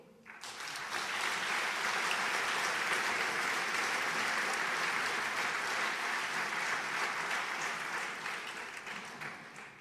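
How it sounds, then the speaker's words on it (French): Audience applause at the Fondation du Rein's 10th anniversary gala in 2012 swells quickly into sustained, even clapping from a large crowd, then slowly tapers at the end. "J'aimerais que nous l'applaudissions"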